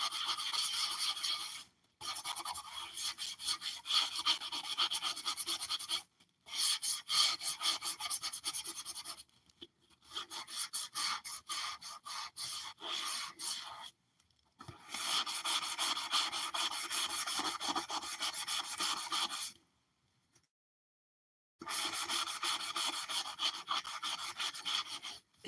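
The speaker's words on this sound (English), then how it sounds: "But I am using a very heavy duty coarse steel." Coarse heavy-duty steel wool scrubbing the body of an antique 1900s German doll, sounding as repeated bursts of dry, raspy rubbing separated by short pauses, close and fairly steady, with no talking.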